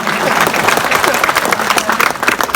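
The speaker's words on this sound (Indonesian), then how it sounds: "Mana tepuk tangan?" Loud, close applause from a large crowd at an Islamic religious gathering at a polytechnic, a dense uneven clatter of many clapping hands that swells and dips slightly with some crowd murmur.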